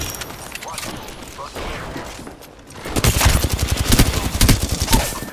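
Video game gunfire bursts out in fast, dense automatic volleys, loud and close, with a quieter stretch of scattered shots and talk before the heavy firing kicks in.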